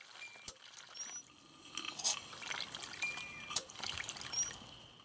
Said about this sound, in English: Most of these pumps are double-acting, and as you can see, this is really moving a lot of water.